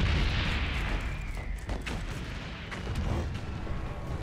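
In the Valiant Hearts video game, an artillery piece booms in a heavy, rumbling blast that fades into a sustained low roar. Smaller crackling bursts follow across the battlefield.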